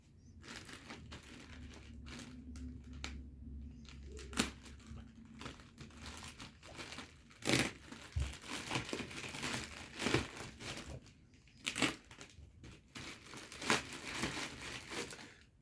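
Plastic wrapping crinkles and crumples continuously while a packaged camping chair is unboxed, with irregular close rustles, sharp crackles and tearing bursts.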